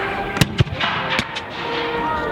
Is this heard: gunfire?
yes